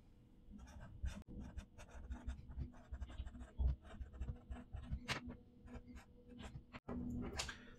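A pen scratches out set notation by hand with brackets and symbols: soft, close, irregular strokes and taps with brief pauses, fairly faint.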